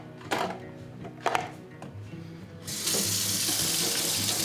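Warm water runs from a tap into a container, a steady rushing flow that starts suddenly partway through, after a few light clicks and knocks.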